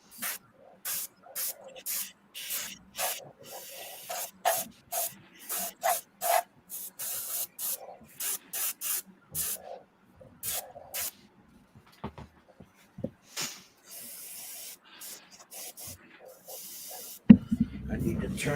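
An airbrush driven by an air compressor sprays green paint in a long series of short, close hissing bursts separated by brief pauses, ending in a louder spurt.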